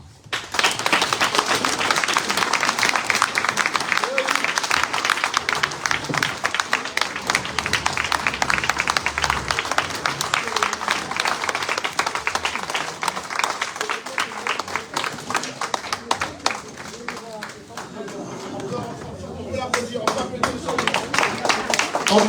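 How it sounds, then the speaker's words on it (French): A crowd at a French-language political gathering applauds a minister with sustained close clapping over about twenty seconds, thinning briefly near the end before swelling again. "On peut applaudir monsieur le ministre."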